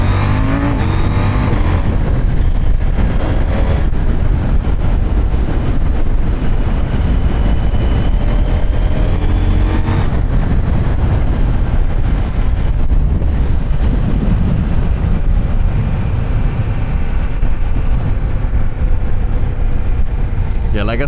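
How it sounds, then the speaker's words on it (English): KTM 1390cc Super Duke motorcycles rev their engines on a road ride, heard from a moving motorcycle as a loud, rough engine roar buried in heavy wind buffeting, with a rider talking over it. "Oh, that sound of those Super Dukes."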